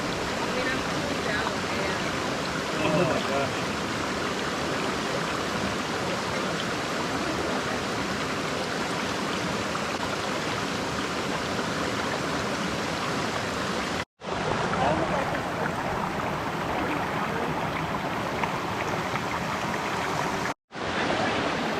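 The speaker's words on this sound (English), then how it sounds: "We got a nice little creek here." Small mountain creek flowing along a backpacking trail to Gregory Bald, a steady broadband rush of water that stays close and even throughout, broken by two brief dropouts near the end.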